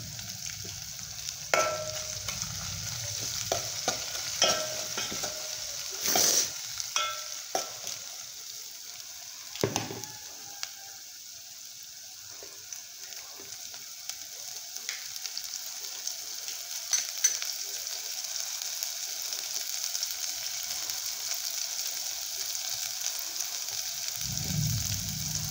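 Oil tempering with turmeric just added keeps up a steady close sizzle for a dill leaf bhaji, broken by sharp stirring clinks and scrapes, with a low rumble near the end.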